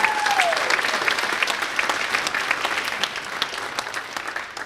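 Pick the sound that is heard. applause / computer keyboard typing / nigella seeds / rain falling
applause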